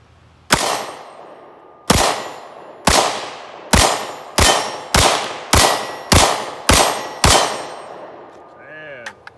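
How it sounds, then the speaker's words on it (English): Ten sharp metallic clangs ring out from pistol rounds striking a steel plate, each impact followed by a fading ring, spaced unevenly at first and then in a quicker steady string, ending with a faint wavering tone. "So let's load back up and pop some more rounds."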